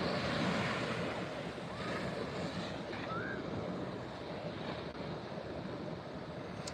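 Ocean waves at a beach roll in as a steady, loud wash of surf with wind buffeting the microphone throughout, no voices present.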